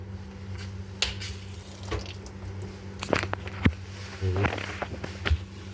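Water poured and splashing while aquarium tubing and fittings are cleaned at home with household items, with irregular splashes, drips and small clicks over a steady low hum.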